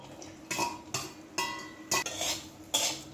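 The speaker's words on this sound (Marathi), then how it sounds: "आता हे छान तुपावर परतून घ्यायचे याचा थोडासा रंग बदलेपर्यंत आपल्याला हे परतायचे" Tender cashew nuts are stirred in a little hot ghee in a kadai, the spoon scraping and clinking against the pan in about six sharp strokes over a soft sizzle.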